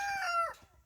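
A chicken lets out a single short, loud squawking call that cuts off abruptly, heard close up with no talking.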